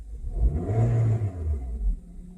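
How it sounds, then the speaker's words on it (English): A Honda Civic engine runs with the car in park, a low rumbling hum that swells and eases slightly as it idles, heard from inside the car with no talking. "That vibration is basically the engine."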